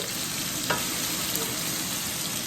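Small cut pieces of paneer fry in a pan with a continuous close sizzle and crackle, steady and loud, with a faint clink of a utensil and no talking.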